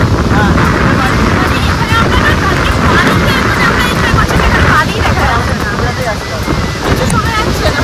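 Sea waves breaking at Mandarmani beach, a loud, steady roar of surf mixed with strong wind buffeting the microphone, while people talk nearby.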